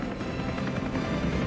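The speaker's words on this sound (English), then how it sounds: "Leading this year's National Day aerial flypast is the combined helicopter formation" A combined formation of Seahawk, Apache, Super Puma and Chinook military helicopters roars steadily overhead in a National Day parade flypast in Singapore, a dense continuous rotor rumble with no talk.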